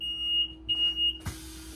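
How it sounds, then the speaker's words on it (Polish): A shrill electronic door warning beep on a Solaris Urbino Electric 9 bus sounds in steady bursts while someone stands in the doorway, fairly quiet, with a brief rush of noise near the end. "tak długo, jak będę stał w drzwiach, albo ktoś będzie stał w drzwiach, to głośny alarm nam powie"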